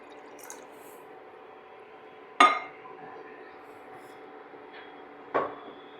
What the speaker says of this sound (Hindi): अब फ्लेम में हम एक बर्तन रखेंगे और गरम करेंगे और उसमें डाल देंगे हम पानी।